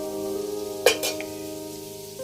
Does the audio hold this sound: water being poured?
no